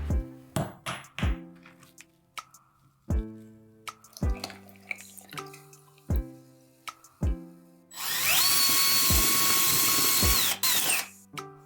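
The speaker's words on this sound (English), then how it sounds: "Make a small hole in the bottom of an aluminum can and drain all contents through it." A drill bores a hole through the bottom of an aluminum can: a few scattered knocks and taps come first, then a loud, steady whine holds for about two and a half seconds before it cuts off.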